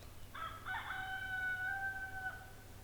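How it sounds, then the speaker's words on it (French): A rooster crows once in a garden, a single drawn-out cock-a-doodle-doo at moderate distance over faint background hum. "On entend un coq chanter."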